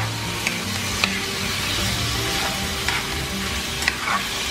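Steady sizzling of liver frying in a pan, with occasional scraping clicks of a utensil stirring through it.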